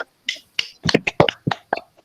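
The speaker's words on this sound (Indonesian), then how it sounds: "Kita beri tepuk tangan untuk adik Nini Kabut" A class of young pupils gives a classmate a short round of applause, sparse separate claps landing in a loose, uneven rhythm, close and clear over an otherwise quiet room.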